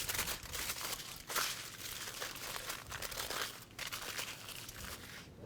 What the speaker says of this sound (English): I would go ahead and wrap them in foil.